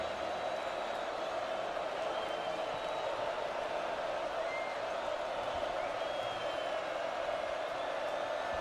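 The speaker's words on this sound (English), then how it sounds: "This crowd coming to their feet again." A football stadium crowd roars steadily at a game between SMU and Oklahoma, a broad distant wash of cheering and whoops held at an even level throughout.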